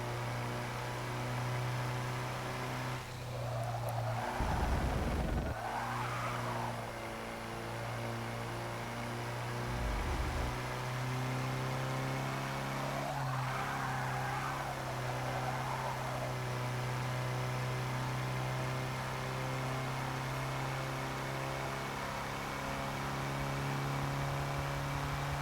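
The steady engine drone of a 60-horsepower Porsche driving in Forza Motorsport 6 holds a constant pitch throughout. A few brief swells and whooshes rise over it, with no voices.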